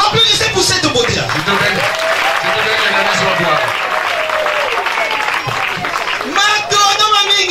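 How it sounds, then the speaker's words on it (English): Applause at a Congolese wedding dowry ceremony in Brazzaville, loud and sustained clapping under an ongoing voice and lively crowd noise throughout. "applaudissez pour cette beauté là"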